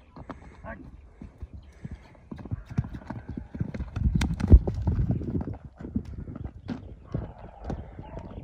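A horse from Özgön, trained for the ulak goat-pulling game and up for sale, runs with clip-clopping hooves. The rhythmic hoofbeats are fairly close and grow louder mid-clip, with people talking around them.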